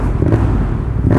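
A Yamaha FZ07 motorcycle with a full exhaust revs briefly up close, giving a loud, deep, rumbling engine roar with a rough, popping texture.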